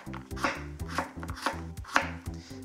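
Knife slicing onion on a cutting board for pork miso soup, a steady series of crisp chops, about two per second, close and clear with no talking.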